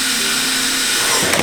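A close, loud power drill whines steadily drilling holes in metal on a 2005 Subaru Impreza WRX STi, then strains and shifts pitch as the bit bites in near the end.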